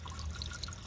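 Water pours from an aquaponics grow bed with algae and plants into an exit pipe, a soft steady trickle heard alone and fairly faint for just under a second.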